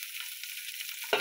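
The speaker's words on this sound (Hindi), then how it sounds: "जब तक ये फ्राई हो रहे हैं" Bell peppers and carrots frying in butter in a pan give a steady, close sizzle, with a louder burst of sizzling right at the end.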